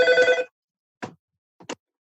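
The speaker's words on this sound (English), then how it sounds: "sorry about the phone" A telephone bell rings in a short harmonic burst, then cuts off, followed by two brief faint knocks or clicks in otherwise quiet surroundings.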